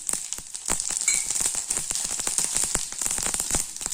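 Tempering spices crackle and sizzle in hot oil for a raw banana fry, a steady dense frying hiss with sharp popping bursts throughout, close and fairly loud, no voices.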